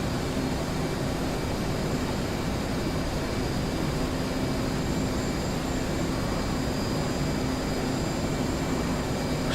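Aircraft engines drone steadily in flight, a continuous roaring rush with a faint steady whine riding on top. The sound stays even and unbroken throughout, with no voices.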